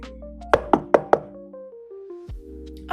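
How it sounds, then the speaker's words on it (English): Four sharp knocks in quick succession on a door or coffin, loud and close, followed by a pause and a final single thud, with a low tonal drone sustained underneath. "Knock, knock, knock."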